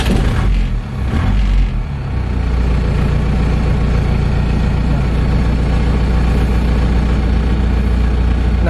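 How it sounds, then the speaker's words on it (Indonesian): An Isuzu Panther pickup, a six-wheeled conversion, cranks and catches with a loud burst, then settles into a steady, close, rumbling idle that continues evenly to the end. "Nah, kita coba nyalain mesinnya ya teman-teman."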